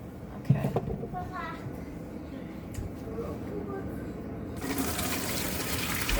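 Whey and cheese curds for mozzarella are poured through a regular strainer into a bucket, making a close, splashing rush and trickle of liquid that grows brighter and louder near the end.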